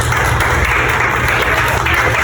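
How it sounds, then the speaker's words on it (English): A crowd gives a round of applause for an older brother, producing a dense, even wash of clapping that holds steady and loud throughout. "Round of applause for my older brother"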